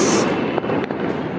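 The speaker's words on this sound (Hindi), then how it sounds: "तो यहाँ पर बहुत सारे बच्चों ने, बहुत सारे लोगों ने फैमिली के साथ मिलकर पटाखे फोड़े हैं।" Diwali firecrackers go off in a residential central park, a few sharp distant pops over a steady crackling, smoky background hiss, brief and with no talk.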